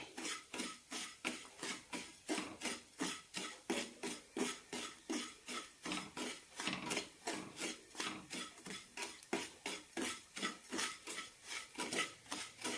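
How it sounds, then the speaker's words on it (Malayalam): Flattened rice with cashews and almonds is dry-roasted in a pan for payasam, with a spatula scraping and stirring in a fast, regular rhythm of about two strokes per second, quiet and close. "ഇനി ഇതിലേക്ക് അണ്ടിപ്പരിപ്പും ബദാമും ഇടാം നന്നായി വറുത്തെടുക്കാം"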